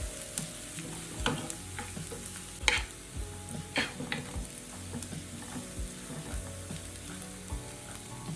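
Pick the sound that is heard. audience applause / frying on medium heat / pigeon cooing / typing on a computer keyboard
frying on medium heat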